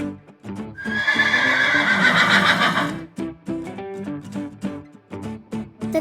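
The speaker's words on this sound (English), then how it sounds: "The horses neigh." A horse gives a long, loud, shrill whinny lasting a couple of seconds, followed by rhythmic hoof clip-clops set against a bouncy music backing, with no speech.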